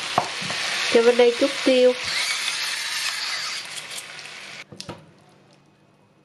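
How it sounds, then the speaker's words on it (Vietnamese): Meat and tomatoes stir-fry in a pan with a loud, close sizzle and scraping stirs. A voice speaks briefly early on, and the hiss drops away near the end after a couple of clanks. "Rồi xào cho đến khi thịt chín và cà chua mềm."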